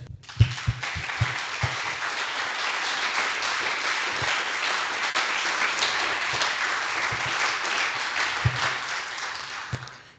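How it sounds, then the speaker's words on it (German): A conference audience claps continuously for about ten seconds, a dense, even roar of applause with a few louder claps near the start. "Also einen großen Applaus für euch selber."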